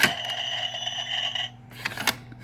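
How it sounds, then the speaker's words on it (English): A toy cash register from a McDonald's drive-thru play set beeps with a steady electronic tone, then a couple of short clicky button presses follow. "And then, of course, the cash register makes noise too."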